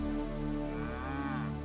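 Single cow moo from the game Milkmaid of the Milky Way, a low sustained call, moderately loud and near, with no speech over it.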